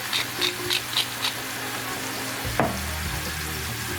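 Ground meat and onions for Philly cheese steak stuffed peppers fry in a pan with a low continuous sizzle, a few rhythmic taps early on and a sharp clatter near the end.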